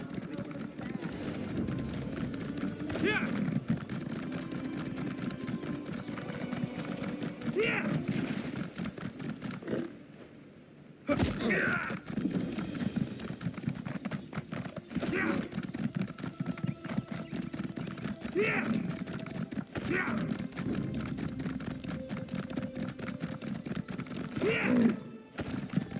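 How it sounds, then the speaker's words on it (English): A horse gallops in The Elder Scrolls Online, with steady rhythmic hoofbeats running throughout, occasional whinnies, and someone talking over the clatter. "That is it! I'm done with this mad horse."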